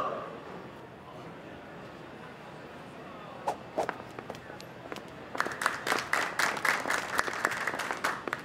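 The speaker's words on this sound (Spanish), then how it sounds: "¡Se merecen un hashtag gran aplauso!" Sparse claps and scattered footsteps gather into a livelier burst of clapping near the end, audience applause at a school fashion runway show, heard at moderate volume without speech over it.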